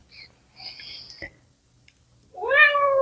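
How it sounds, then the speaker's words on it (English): A cat meows twice, a faint short call early and then a louder, clear drawn-out meow at the end, close by in a quiet room with soft rustling between. "my cat just meowed"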